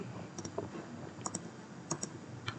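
Keys clicked on a computer keyboard, a Ctrl+S save shortcut in admin dashboard coding work: a few sharp, close, light clicks in quick pairs, spaced out over a quiet room background with no talking.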